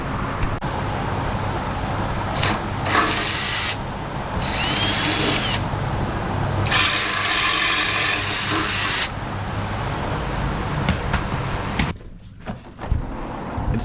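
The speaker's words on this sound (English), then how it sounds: "So let me get my drill and I'll be back." Power drill fastening parts during a Nissan Patrol RB25DET engine swap, near the heat exchanger plumbing: several distinct whirring bursts of a few seconds each, fairly close, over a steady background of traffic hum.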